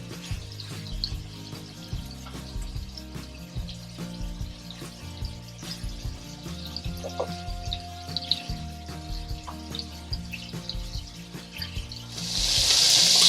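Steaks frying in a hot pan for a steak sandwich: a steady close sizzle and crackle runs throughout, with a rattling shake of the pan and a louder hiss swelling at the end.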